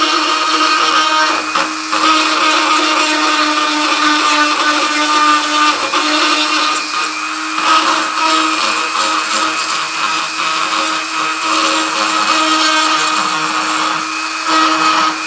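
A small power tool whines steadily and loudly up close while shaping the hoof of a lead figure being restored, with slight dips in pitch as it bites into the metal.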